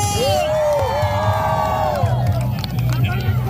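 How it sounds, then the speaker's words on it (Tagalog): An audience at the Mr. and Miss Beach Royalty 2025 pageant shouts and cheers in a loud, continuous wash of voices, with high whoops rising over the crowd noise. "Sigaw-sigaw, madlang people!"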